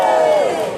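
A live audience at a magic show lets out a brief, loud collective cheer and shout, close and full, fading slightly at the end of the burst.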